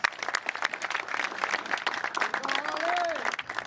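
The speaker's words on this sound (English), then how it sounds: "Please welcome him. Round of applause, please." Audience applause at a golf event, a short burst of clapping that thins out while a voice cuts in briefly near the end.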